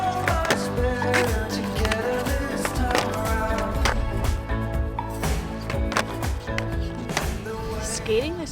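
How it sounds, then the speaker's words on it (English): Skateboard wheels roll and clack over a cracked, sloped street spot, giving a continuous gritty rumble broken by frequent taps and knocks from the board, with a voice talking over it. "Skating this spot is somewhat difficult because there's just cracks and slopes everywhere"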